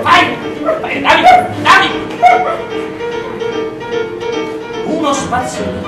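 A dog gives short yips, barks and whimpers in an indoor scene, several bursts spread across the clip, mixed with a man's speech.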